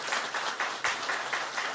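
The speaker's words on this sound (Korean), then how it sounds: "우리 박수로 좀 환영해 주시면 좋겠습니다." A church congregation at a Tuesday prayer meeting applauds in welcome, a steady wash of many hands clapping at moderate distance with soft rhythmic swells and no talk.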